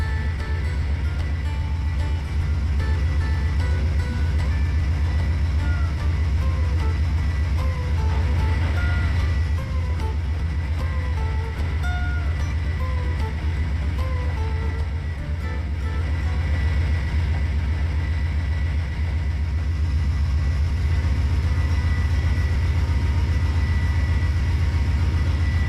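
An RJ Corman coal train running in the Trainz 22 simulator, a steady low rumble of engine and rolling cars with a sustained horn-like tone, continuous and fairly loud throughout.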